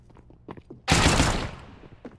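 A sudden loud burst of rapid gunfire rings out in a CS:GO match, lasting under a second, between stretches of excited commentary.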